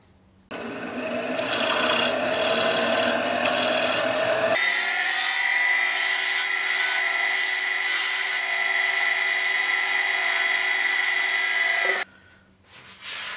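A wood lathe turns a wooden cooking spatula, giving a steady scraping, rasping whir as the tool and fingers press on the spinning piece, with a brief change near the start and the motor winding down at the end.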